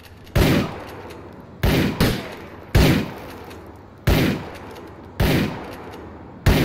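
Gunfire in the video game GTA IV: loud, close single shots and short bursts spaced irregularly about a second apart, each a sharp broadband crack with a brief decaying tail.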